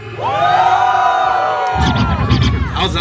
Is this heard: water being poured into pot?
no